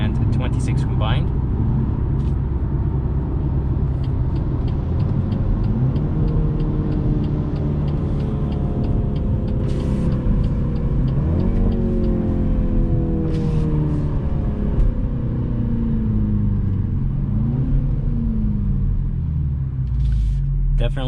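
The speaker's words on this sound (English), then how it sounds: "Definitely this engine does not sound like a 4-cylinder." Engine of a 2022 BMW X2 M35 while driving, a loud steady rumble with rising and falling pitch as it accelerates through gears, heard from inside the cabin.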